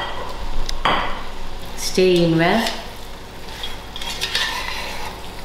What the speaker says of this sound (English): I'll give it another 10 minutes for frying out.